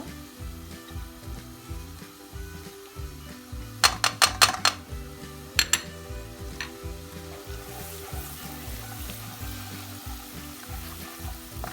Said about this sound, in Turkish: Şimdi sarımsaklarımı atıyorum.